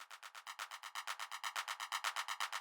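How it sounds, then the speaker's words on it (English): Rapid clap sample repeating in an even sixteenth-note pattern for a techno build-up, a crisp string of sharp hits that is fairly quiet. "So the first one is this clap"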